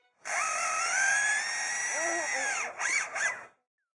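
A lyrebird mimics a whirring power drill, a steady mechanical whine that dips and revs briefly before stopping; close and clear.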